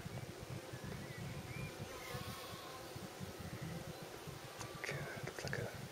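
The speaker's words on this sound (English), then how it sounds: "There's plenty of bees going in and out of there as well." Honey bees buzz densely around a beehive in an apiary in April, a steady close-up drone with individual bees flying past the microphone and faint wind.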